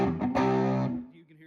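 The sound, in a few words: guitar fuzzing through a 1963 Ampeg Reverb Rocket amp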